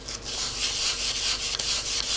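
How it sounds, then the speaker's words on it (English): Steady, close rasping of 220 grit sandpaper lightly sanding model rocket wood in continuous circular strokes, with no talking. "let's start with the 220 grit sandpaper, and I'm just going to do a light sanding"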